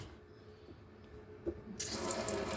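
Tap water starts running into the sink of a Bailey Rangero 470/4 caravan, a sudden steady rush filling the last second after near silence.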